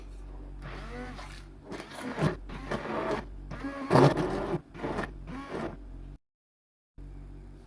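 A blender mixes acacia flowers in bursts for macaron flavouring, giving several loud rough whirring pulses with short gaps, then silence.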